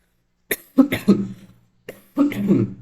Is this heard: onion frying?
no